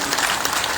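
Rhythmic, loud hand clapping from an audience at a devotional gathering, clapping in Ram's name as arms are raised, dense and continuous throughout.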